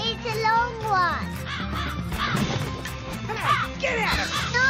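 Crows caw harshly several times in a Bluey cartoon, mixed with a voice and busy cartoon sound effects.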